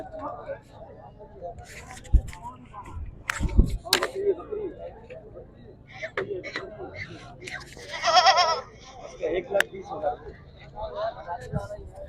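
Goats bleat repeatedly at a busy Memon Goth livestock market, several loud, close calls rising over a background of people talking and market noise.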